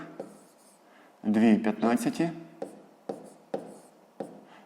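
A pen scratches across paper in short strokes while numbers are written out by hand for a sixth-grade math exercise, close and crisp, interrupted by a brief burst of talking.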